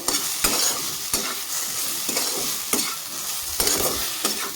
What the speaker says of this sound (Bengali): ঢাকা চাপাটা উঠিয়ে আমি আরেকটু নেড়ে চেড়ে দেবো